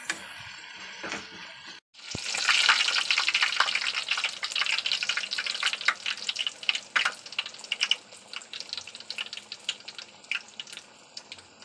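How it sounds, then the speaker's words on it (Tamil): Puri dropped into hot oil on a stove sets off a sudden loud sizzle, then settles into dense, crackling deep-frying that keeps popping and hissing nearby, with no one speaking. "அந்த பக்கம் அடுப்பில் பூரியை போட போகுது எங்கள் அம்மா"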